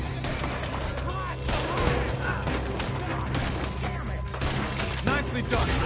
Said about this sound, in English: Why are they all shooting?